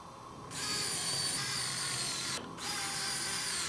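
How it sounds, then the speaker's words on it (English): Screws being driven into a computer motherboard with a small power screwdriver: a steady, close whirring drone that starts after a brief quiet, cuts out for a moment and then resumes. "while you're screwing these screws in, you want to be sure not to over tighten"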